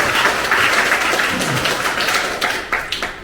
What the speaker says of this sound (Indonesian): Kita memberi aplaus untuk momen ini.